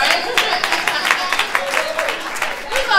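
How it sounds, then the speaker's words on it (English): Conference audience at a women's conference at Hofstra University applauding, a brief burst of crowd clapping and cheering mixed with a speaker's voice. "Give them a round of applause, right?"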